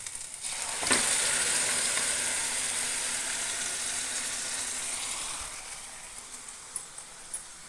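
Boiled chicken hits a hot pan for spicy pepper chicken, setting off a loud, steady sizzle that swells after a sharp start, then slowly eases, with a few light stirring clinks near the end.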